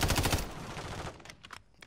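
A burst of rapid automatic gunfire through a wall in Call of Duty MW3, loud and close for about half a second, then a few scattered fainter shots trail off.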